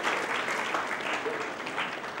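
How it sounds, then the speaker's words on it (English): A conference audience applauds steadily throughout, a dense, continuous wash of many hands clapping in a large hall with no break. "Please have a huge round of applause"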